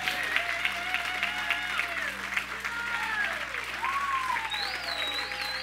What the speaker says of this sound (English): Let's give God a big hand clap of praise real quick.